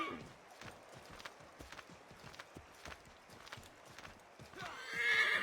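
A horse's hooves clop in a steady walking rhythm, close and moderately loud, ending in a brief high whinny near the close.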